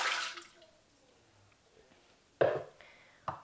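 Water is poured into a Thermomix bowl for bread dough, a short splashing pour at the start, then near quiet, followed by a couple of clunks and small splashes.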